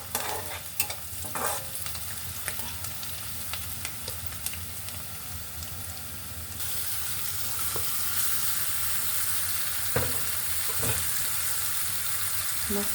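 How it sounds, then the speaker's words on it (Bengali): Catla fish goes into a pan of fried onions and starts sizzling: a few stirring clatters, then a steady, louder frying hiss with occasional utensil knocks. "এখন আমি মাছটা ঢেলে দিব মাছটা"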